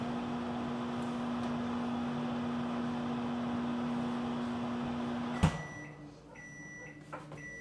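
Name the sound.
microwave oven running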